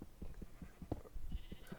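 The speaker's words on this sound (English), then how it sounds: "So obviously we do have sheep." Sheep bleating in Minecraft, a few short game bleats scattered over soft background clatter, fairly quiet and without talk.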